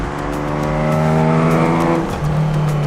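A Ford Capri on a race track, its engine droning loud and close with a rising, humming note that drops sharply as it shifts gear, then pulls again.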